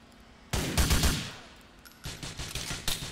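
Gunfire in Grand Theft Auto 4 arrives as a loud burst of shots, then a pause, then a second rattling volley of rapid shots close and sharp.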